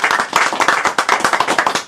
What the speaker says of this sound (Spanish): Un aplauso para Gloria Inés Sánchez,